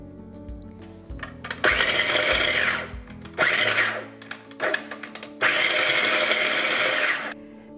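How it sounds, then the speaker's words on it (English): A food processor crumbles tofu in a few short pulses followed by three longer whirring runs, loud and close, with brief pauses between bursts and no speech. "And then put them in the food processor,"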